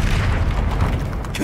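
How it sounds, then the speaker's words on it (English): The Incendio fire spell goes off in Hogwarts Legacy as a dense, loud whooshing roar of flame that lasts the whole brief moment. "Incendio!"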